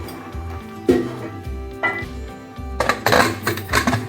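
Metal spoon scrapes and clinks against a cooking pot while stirring rice for chickpea biryani, in irregular strokes, close up, with a few louder knocks.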